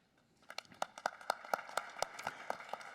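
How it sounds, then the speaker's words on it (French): A small congregation claps inside the Church of the Holy Sepulchre in Jerusalem during the Latin Patriarch's solemn entry: a short burst of close, crisp, fairly sparse handclaps falling into a loose, quick rhythm. "Voilà, la petite assemblée applaudit."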